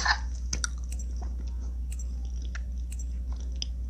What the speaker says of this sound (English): if you hear, like, chewing, don't be mad at me.